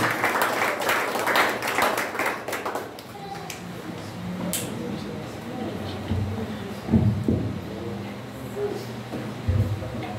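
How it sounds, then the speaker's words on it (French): Church congregation clapping together in a dense burst for the first few seconds, then fading to scattered claps and shuffling while voices speak over it. "nous applaudissons la présence de Dieu"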